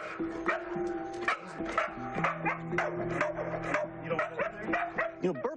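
Bourbon, a usually calm dog, barks repeatedly in close, loud bursts with yips and whimpering tones, a continuous agitated run of barks.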